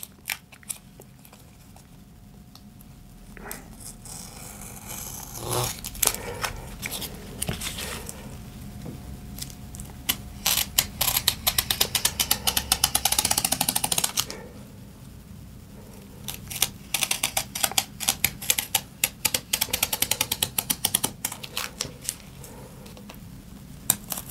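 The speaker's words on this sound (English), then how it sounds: "I'm going to cut my foil at the same time" Scissors snip through metallic foil with a plastic backing for balsa wood model rocket fins, bursts of rapid crisp cuts and crinkling, close and fairly loud, with quieter handling gaps between.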